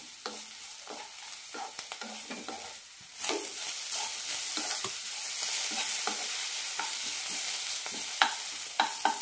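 Half-cooked cabbage sautéed in a pan for cabbage chutney, with a continuous sizzle under repeated scraping and knocking strokes of a spoon stirring, growing a little louder after the first few seconds.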